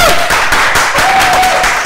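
A talk show studio audience applauds with loud, dense, continuous clapping throughout, with a faint tone running beneath it.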